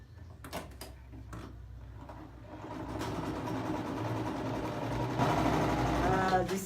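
An embroidery sewing machine stitches a dress, its steady mechanical hum running continuously and growing slightly louder, with faint voices in the background.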